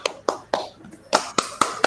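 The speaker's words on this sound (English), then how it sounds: "please give a round of applause" Scattered, sparse clapping from a small audience at an ISAS webinar inauguration, about seven distinct claps spaced roughly a quarter second apart, close and fairly quiet, with no voices.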